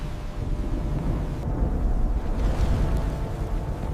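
A storm with thunder rolls as a deep, continuous rumble under gusting wind, filling the whole stretch with heavy low roaring and no voices.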